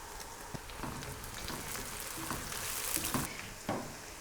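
Onions frying with green chillies in a pan, browning for carrot and pea pulao, a continuous crackling sizzle up close with a few light stirring knocks.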